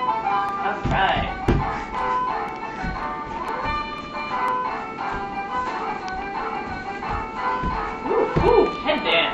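A toddler's toy music box plays a tinkling, bell-like tune that runs continuously at moderate volume while people talk over it.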